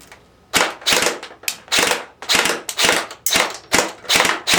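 An airsoft gun powered by an 11.1v LiPo battery fires rapid bursts of BBs into a cardboard target backed with cloth and foam, giving sharp, loud repeated cracks in a fast rhythmic string.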